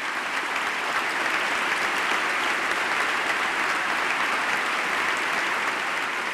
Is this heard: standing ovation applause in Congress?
yes